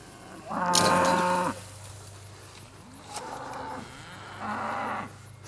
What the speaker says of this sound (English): Silly cows.